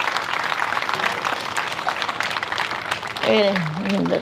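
An audience claps at a spiritual gathering for men seated at the back. The clapping is moderate and scattered, with a crowd murmur under it, and a voice speaks over it toward the end.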